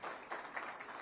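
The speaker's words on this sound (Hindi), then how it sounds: "बार जोरदार तालियां।" Audience applause at a UPSC success event in Hindi, a short burst of soft, distant clapping with rhythmic pulses.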